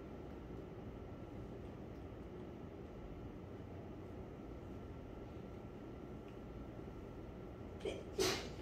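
A quiet physics lecture room hum, then a single short sneeze bursts out near the end.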